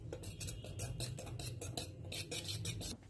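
A utensil stirs cake batter flavoured with vanilla essence in a bowl, giving a steady run of soft scraping clinks repeated quickly and evenly for several seconds, close but quiet, with no talk.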